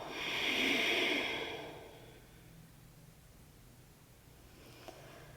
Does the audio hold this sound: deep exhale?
yes